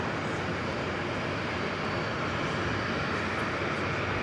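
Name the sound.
Nippon Cargo Boeing 747-8 taxiing on runway 22 right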